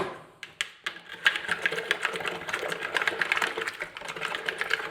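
Salt stirred into a solution for a salt print, a rapid close clatter of a utensil scraping and ticking against a container, continuous after a brief quiet start.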